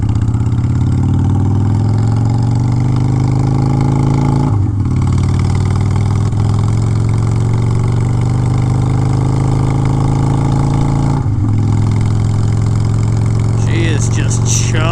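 Honda Shadow motorcycle engine idling close by, a loud continuous low chugging with two brief dips in the rumble; a voice briefly talks over it near the end.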